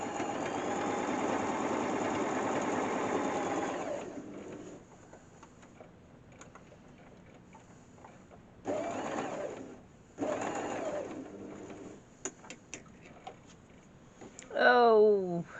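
A sewing machine stitches a padded cushion cover in a steady whirring run, then stops and restarts in short bursts, fairly close and moderate in level, with a brief squeaky mechanical sound near the end.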